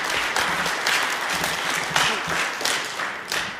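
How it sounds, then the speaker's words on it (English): Audience applauding at the close of a children's Christmas-season piano recital led by a teacher, steady clapping from a roomful of people with a few louder bursts, no voices over it. "One more round of applause"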